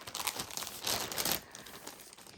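A plastic bag crinkles and rustles in close, loud bursts while gifts are being unpacked, then the sound softens into quieter handling, with no talking.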